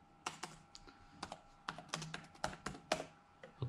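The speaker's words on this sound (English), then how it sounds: "Let's type carne milk here." Keys clatter on a computer keyboard in short, irregular taps and small clusters, close and quiet, with no voices over them.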